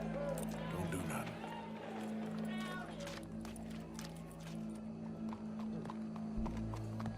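Horse hooves clip-clop at a steady run in the Western game Red Dead Redemption 2, layered over a constant music and ambience bed with a crowd murmuring faintly behind.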